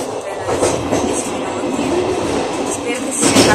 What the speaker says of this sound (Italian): fa veramente casino questo treno